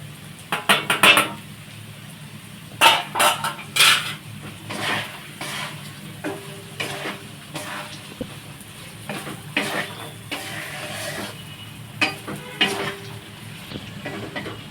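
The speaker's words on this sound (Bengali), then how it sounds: "এবার দিয়ে দিচ্ছি ভেজে রাখা চিংড়ি মাছগুলো" Prawns are stir-fried in a pan with beans, carrots, cashews and raisins for fried rice, a steady sizzle punctuated by repeated sharp clanks and scrapes of a utensil against the pan.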